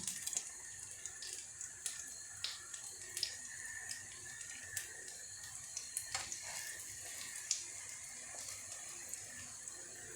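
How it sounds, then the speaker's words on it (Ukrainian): Thin crepes sizzle in melted butter in a frying pan, a steady close crackle with scattered sharper pops and light clinks throughout, no talking. "Так, масло наше вже все розтопилося і ложимо наші ленчики."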